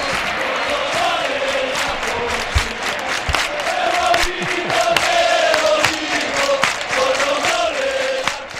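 A large crowd of Real Betis football fans chants and sings together at the Benito Villamarín stadium, a loud, dense roar of voices with rhythmic swells and a few sharp claps throughout.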